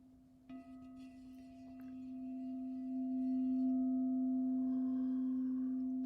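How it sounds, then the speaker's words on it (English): A crystal singing bowl rings with a steady, pure sustained tone that swells gradually and hums on without fading, with faint overtones shimmering above. "So when I play this lovely crystal singing bowl,"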